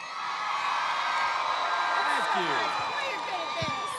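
An audience in Greenville, South Carolina welcomes guests with cheers, whoops and shouts, a loud crowd roar building and sustained throughout, with scattered yells over it.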